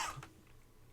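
A single short, faint cough at the very start, followed by quiet room tone.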